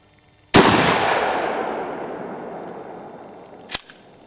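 A single Mossberg 12 gauge pump shotgun blast booms close and loud, its long rumbling echo trailing off over several seconds before a sharp metallic clack near the end.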